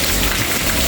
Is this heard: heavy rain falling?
yes